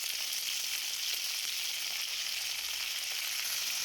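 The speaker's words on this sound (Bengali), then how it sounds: "এরপর আমি এই সবজিগুলো দিয়ে সামান্য একটুখানি ভেজে নেব" Vegetables fry in hot oil with panch phoron and dried chillies for a spinach dish, giving a loud, even, continuous sizzle with no breaks and no voices.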